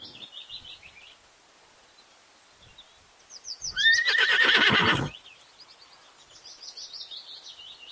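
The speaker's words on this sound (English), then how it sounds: "H for horse." A horse gives one loud, shaky whinny of about a second, up close, while bird chirps sound softly before and after it.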